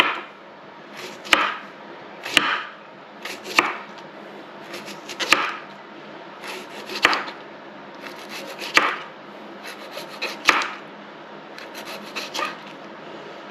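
A knife slices gherkins thinly on a chopping board, giving about nine evenly spaced cuts. Each one has a short rasping stroke that ends in a crisp tap on the board, close up and with no talking.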